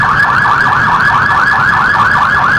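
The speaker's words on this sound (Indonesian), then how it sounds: "Wow, mobil damkar." A toy fire truck's electronic siren wails loud and close in a fast, regular rising-and-falling warble that repeats steadily without pause.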